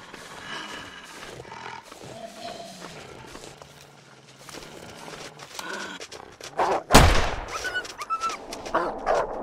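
Wolves snarling and growling in the survival game The Long Dark, rough animal growls building to a loud sudden outburst near the end, mixed with footsteps and game ambience under a talking player.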